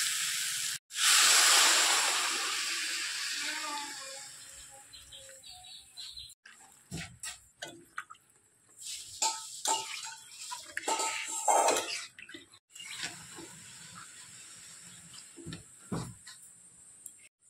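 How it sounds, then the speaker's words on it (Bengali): Water is poured into a hot pan of soybean and potato curry, giving a loud sizzling hiss at the start that fades into scattered clinks and scrapes of a utensil against the pan. "এবার পরিমাণ মতো জল দিয়ে দেব।"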